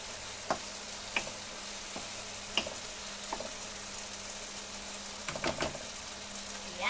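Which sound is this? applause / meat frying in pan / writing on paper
meat frying in pan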